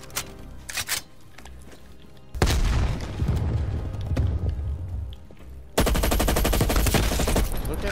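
A gun fires rapidly in a video game, sustained bursts of loud automatic gunfire that stop briefly and then resume, heard close and dense.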